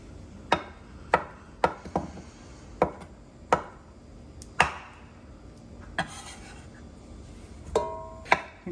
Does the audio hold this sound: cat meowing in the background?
no